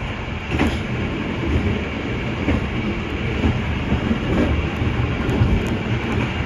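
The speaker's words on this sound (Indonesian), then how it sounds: "Itu bawa double lokomotifnya sampai mana tuh ya, Fajar ya?" A train hauled by two locomotives rolls past close by, a loud, steady rumble with rhythmic clickety-clack of wheels over rail joints and occasional metallic squeals, with no talking.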